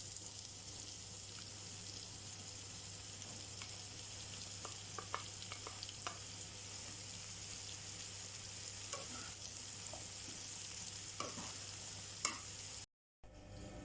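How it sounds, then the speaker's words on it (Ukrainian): Onions and mushrooms sizzle steadily in a pan at low volume, with occasional soft crackles and stirring scrapes throughout. "Смажимо до м'якості цибулі."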